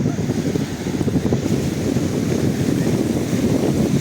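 Gusty wind buffets the microphone over the rolling wash of waves on a sandy beach at Fener Koyu, Çeşme, İzmir, a constant loud roar with no talking.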